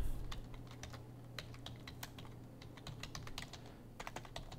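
Rapid typing on a computer keyboard while entering spreadsheet formulas, with crisp close key clicks in quick bursts and short pauses over a low steady hum.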